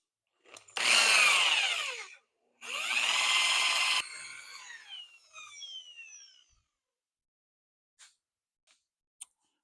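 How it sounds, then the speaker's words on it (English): A power polisher works clearcoat over car paint, giving two loud whining bursts of motor noise, then a spin-down with falling tones and a few faint clicks afterward. "This polisher right here"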